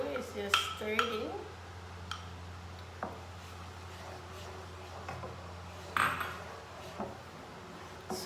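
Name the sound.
stirring egg yolk into sardine pasta sauce in a pot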